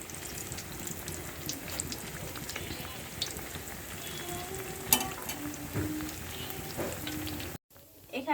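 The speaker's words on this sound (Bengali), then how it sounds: "এখন আমি ডিম চপ ভেজে নিচ্ছি। ডিমটা আমি বেসন দিয়ে চুপ দিয়ে ভেজে নিচ্ছি।" Egg chop coated in gram flour bubbles and sizzles steadily in hot oil, with occasional clinks and stirring scrapes close by and a loud crackle midway.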